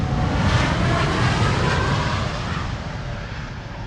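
An airliner taking off at Amsterdam Schiphol Airport, a loud, steady roar of jet engines that stays strong and then slowly fades as the aircraft moves away.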